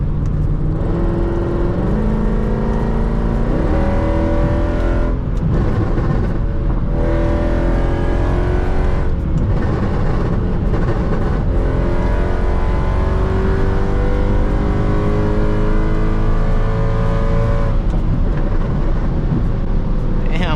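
A car engine revs and pulls hard, its pitch climbing through repeated gear changes, loud and steady, with people talking over it.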